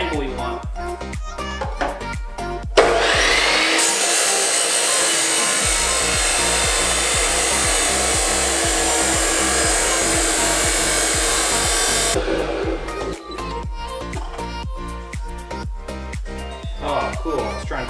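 Cutting tool slicing through metal at an angle during a budget turbo LS engine build: a steady harsh grinding hiss lasting several seconds, with rhythmic mechanical clatter before and after.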